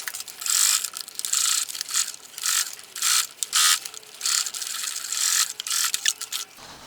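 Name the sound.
sewing machine stitching around a hem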